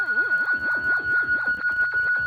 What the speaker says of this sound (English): Basically sawtooth waves